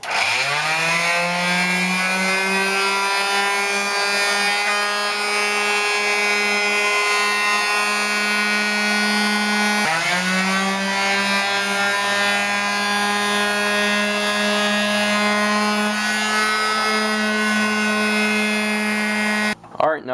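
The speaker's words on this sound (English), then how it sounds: "The sander I'm going to be using just to make the surface smooth is this Craftsman quarter sheet sander." A Craftsman quarter sheet sander with 220-grit paper works across wood in a loud, continuous buzzing whine that dips briefly once halfway through before carrying on, with no talking.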